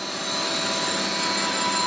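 Steady high-pitched grinding of a worn, scored lathe spindle about 1800 mm long on a KM5 machine, a continuous loud whine with sharp tonal lines holding without a break.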